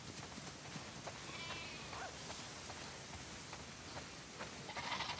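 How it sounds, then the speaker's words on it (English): Sheep bleat inside a barn in the video game The Last of Us Part II, several overlapping bleats heard at a modest distance over a dense, noisy ambient bed of farm sounds. "Wow, that's a lot of sheep."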